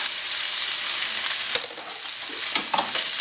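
Meat and onions frying together in a pan for a Thai green curry, a steady broadband sizzle with a few stirring clatters near the end, close and alone with no voices.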